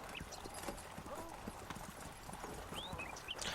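Donkey hooves clip-clop steadily along a path in a video game, a quick run of light, dry knocks over soft outdoor ambience. A brief whinny-like cry rises near the end.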